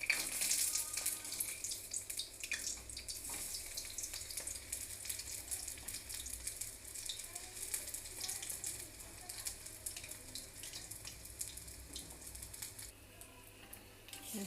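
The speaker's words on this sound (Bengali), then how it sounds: "ঘুরিয়ে ফিরিয়ে বড়াগুলোকে ভাজা করতে হয়" Cabbage pakora fritters fry in hot oil in a wok, a loud, dense, continuous sizzle with bubbling hiss and scattered crackles that stays steady throughout.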